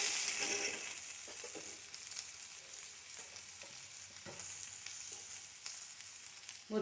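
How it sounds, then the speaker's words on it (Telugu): Mango seed pieces fry in oil, a steady, fairly quiet crackling sizzle that carries on throughout with a few light stirring sounds and no talking. "కలిపి ఒక 5 నిమిషాలు ఇట్లా నూనెలో వేగనివ్వాలి."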